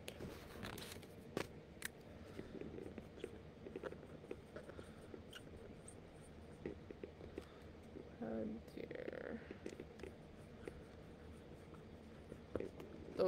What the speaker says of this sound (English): Let me write that down for you.